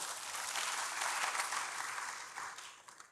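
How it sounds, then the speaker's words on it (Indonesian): A church congregation applauds for God, a soft, distant wash of clapping that holds steady, then thins and fades out. "Berikan tepuk tangan bagi Tuhan."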